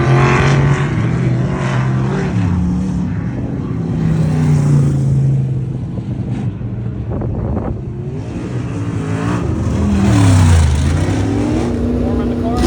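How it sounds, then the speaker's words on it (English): A car engine idles while warming up before a drive, a low rumble with wavering tone and slight rises in revs, heard close by. Speech is mixed in over it throughout. "Warming the car up now, if you can hear me"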